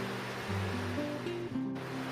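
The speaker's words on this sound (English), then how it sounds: "Here our milk is boiling." Milk boiling in a pot while making sandesh modak, giving a steady, close rushing bubble with a faint low hum underneath and no voices.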